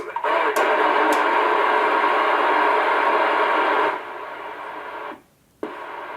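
Two-way radio on a TID channel playing through a speaker mounted behind a headrest, giving a steady loud hiss of static and garbled transmission that cuts out near the end, then returns softly.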